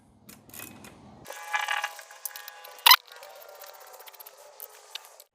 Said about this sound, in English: So you can go ahead and pull off these 2 screws.